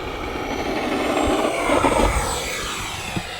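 A Marlin EDF RC plane takes off with half flaps, its ducted fan whining loudly and steadily while the pitch shifts and rises as it climbs away.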